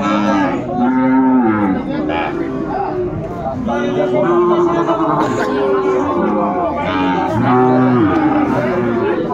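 A Sahiwal bull calf at a cattle market lets out repeated drawn-out moos, loud and close, with people talking and haggling around it.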